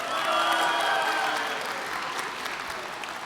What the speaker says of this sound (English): what do you make of those claps?